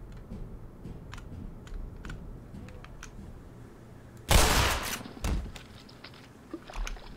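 Shotgun blasts from Black Mesa gameplay, one loud sharp report followed by a weaker second shot and lighter impacts, over faint clicking keyboard and mouse noise with no talking.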